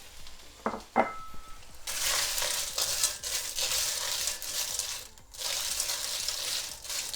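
A couple of clinks of utensils, then a loud hiss of ingredients for a clam pasta hitting hot oil and sizzling steadily, briefly dipping before the frying surges again.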